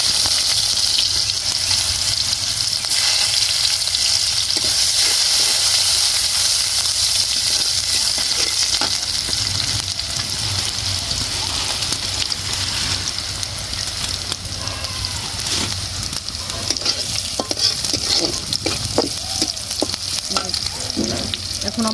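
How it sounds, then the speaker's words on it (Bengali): Onions hiss and crackle in hot oil for a Bengali tengra fish curry, a loud, dense, continuous sizzle up close with occasional stirring scrapes and no talking. "এখন আমরা দিয়ে দিচ্ছি তেল, দিয়ে দিচ্ছি পেঁয়াজ"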